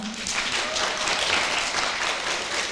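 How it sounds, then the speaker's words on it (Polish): Dense, steady applause from a festival audience at a county culture song contest, filling the whole stretch at an even level with no breaks or talk on top. "Wielkie brawa jeszcze raz."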